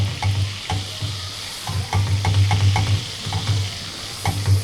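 Stale bread frying in foaming butter in a pan, a steady sizzle punctuated by repeated scraping stirs at an uneven rhythm, close and moderately loud.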